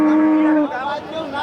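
A cow at a dairy cattle market lows loudly and close, one sustained moo that drops in pitch and trails into a second, softer lowing call.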